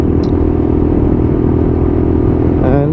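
Lexmoto LXR motorcycle cruising steadily at about 40 mph on very wet roads, a continuous close engine drone with road and tyre noise, no talking.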